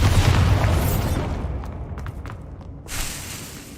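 A Bombarda blast spell goes off in Hogwarts Legacy: one loud, close booming explosion with a broad roar that fades over a few seconds, followed by a fainter thump.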